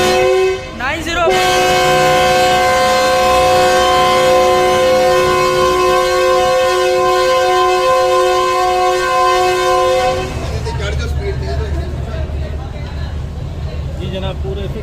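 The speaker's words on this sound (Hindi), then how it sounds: "पूरे फिक्स 6 बजे हमारी ट्रेन शालीमार एक्सप्रेस 27 अब कराची कैंट रेलवे स्टेशन से डिपार्चर ले लिया है" The Shalimar Express pulls out of Karachi Cantt railway station with a long, loud sustained horn blast lasting about ten seconds, then the low rumble of the moving train takes over.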